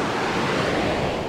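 Waves at Onetangi Bay on Waiheke Island wash onto the beach with continuous loud surf roar, mixed with wind buffeting the microphone throughout.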